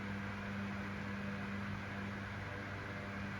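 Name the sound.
Panasonic 9 inch desk fan F-9100 running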